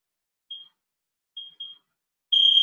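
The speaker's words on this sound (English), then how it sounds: "I'm going to set the timer for another 2 minutes" A training timer in a Brazilian jiu-jitsu class gives three short electronic beeps, then a longer continuous tone at the end. The beeps are loud and clear against near silence.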